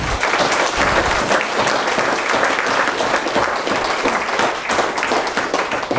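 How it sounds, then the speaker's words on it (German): Audience at a political speech in Amberg applauding, dense sustained clapping from a large crowd that stays loud and even throughout. "ich bin ganz dankbar für diesen Beifall"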